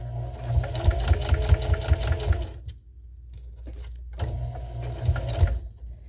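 A sewing machine stitches a rubber jar gripper, running in two steady, close mechanical bursts with a short quiet pause between them.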